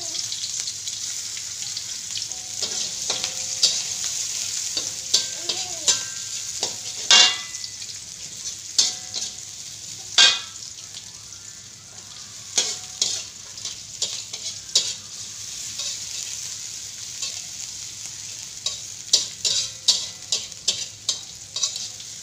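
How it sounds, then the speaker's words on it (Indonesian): Shallots and garlic stir-fried in a pan make a steady close sizzle, with repeated sharp spatula scrapes and clicks scattered throughout and no talking. "Mula-mula ibu akan tumis bawang merah dan bawang putih."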